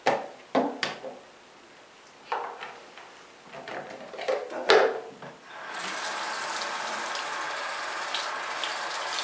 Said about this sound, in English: first I'm going to wet my towel.